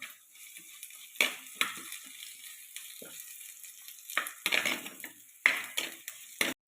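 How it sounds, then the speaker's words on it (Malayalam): Curry leaves, sliced onion and two green chillies being stirred and sautéed in a pan, with a soft sizzle under scattered scraping and clinking stirs, close and moderately quiet. "എല്ലാം ഒന്ന് വഴറ്റി കൊടുക്കുക."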